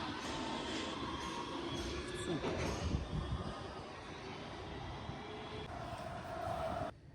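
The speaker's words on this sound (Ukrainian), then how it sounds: "Тут метро ходить кожну одну хвилинку." Budapest metro train rumbling and whining through the station, a loud continuous roar with a rising electric tone near the end, heard up close with faint crowd noise beneath.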